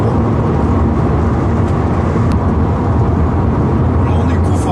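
Citroën C4 Picasso cruising on a motorway, a steady loud cabin roar of road and wind noise without pause, with a person talking over it.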